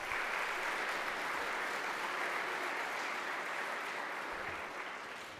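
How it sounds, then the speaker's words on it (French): A church congregation applauds at a first communion celebration, a steady dense wash of clapping that fills the whole stretch and tapers off slightly at the very end. "Je pense que vous pouvez vous applaudir."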